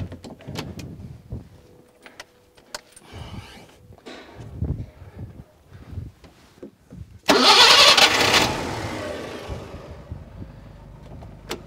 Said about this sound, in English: I then have to start the car up and put my foot on the brake.